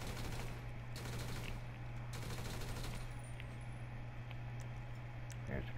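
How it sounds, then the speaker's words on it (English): Gunfire rings out while shooting at police in Grand Theft Auto V, a steady stream of shots under a constant low hum, with a few sharper bursts standing out near the start. "you can come in here and pretty much shoot the cops"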